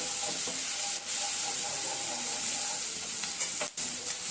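Spring onions stir-fried in a pan for cauliflower gobi manchurian, giving a steady close hiss and sizzle with soft scraping of the spatula throughout, no talking.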